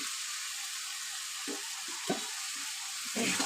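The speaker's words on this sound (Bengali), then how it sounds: "সব সবজিগুলো দিয়ে আমি ভালোভাবে কষিয়ে নেব" Already-fried vegetables are stir-fried in a pan for moong dal khichdi: a constant bright sizzle with several short scraping strokes of the spatula, getting louder at the close.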